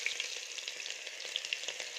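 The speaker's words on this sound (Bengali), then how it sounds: "এবার পেঁয়াজটা দিচ্ছি" Chopped onion fries in oil seasoned with cumin and bay leaf, a continuous close sizzling hiss with light crackles and faint stirring scrapes, no voices.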